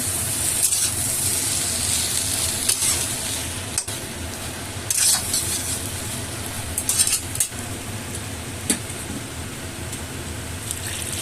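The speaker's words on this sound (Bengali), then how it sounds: "এবার তিন মিনিট পরে এসে আবার নাড়াচাড়া করে দিচ্ছি" A spoon scrapes and stirs a soybean and taro curry in a pan over a constant sizzling fry, with occasional sharper clinks against the pan and no talking.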